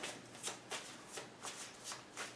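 Tarot cards being shuffled by hand up close, a soft riffling pattern of repeated light flicks, quiet and rhythmic with no voices.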